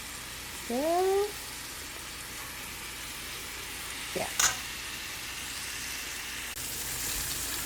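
Chicken thighs fry in a pan with a steady, close sizzle throughout, while a voice speaks briefly near the start and a short clatter sounds partway through.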